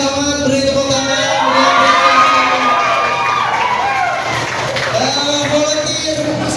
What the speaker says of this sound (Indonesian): Oke, beri selamat, beri tepuk tangan.